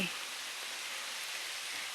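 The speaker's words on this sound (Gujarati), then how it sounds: "વરસાદ આવ્યો" Steady, dense rain patters and hisses evenly throughout on a village house's roof sheets and tiles, a continuous wash of drops on a hard surface.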